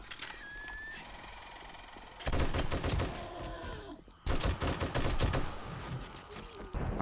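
Weapon fire in 7 Days to Die during a blood moon fight: after a quiet start, loud rapid shots cut in at close range in two sustained volleys separated by a short pause.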